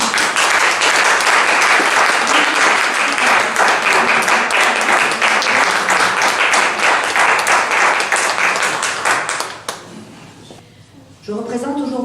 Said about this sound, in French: cette belle récompense que l'on peut applaudir